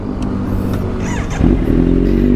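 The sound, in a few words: motorcycle engine being started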